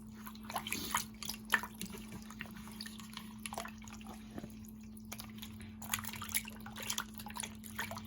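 A stitched cross-stitch piece is swished around in a basin of water, giving faint, intermittent sloshing and dripping sounds over a quiet, steady hum.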